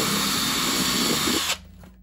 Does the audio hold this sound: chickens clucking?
no